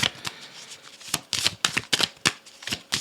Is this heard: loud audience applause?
no